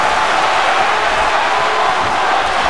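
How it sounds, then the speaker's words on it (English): A large crowd at a wrestling match cheers and applauds steadily, a dense continuous roar of claps and voices with no break. "Would you listen to this crowd show their appreciation for these amazing competitors?"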